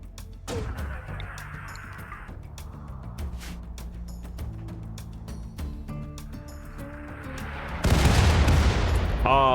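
Mortar shells firing and exploding in the RimWorld video game, heard as scattered sharp thuds under steady in-game music, ending in a loud, dense burst of explosions.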